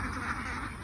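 Ducks on a small egg-laying farm quack in a brief, loud, nasal burst of overlapping calls, heard close up.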